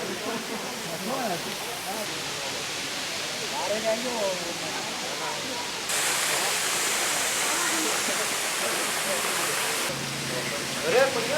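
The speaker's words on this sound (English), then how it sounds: "now we are on the other side of the waterfalls" Heard from behind, a waterfall at the Ellora caves pours in a continuous, even rush that steps up slightly louder partway through and stays steady to the end.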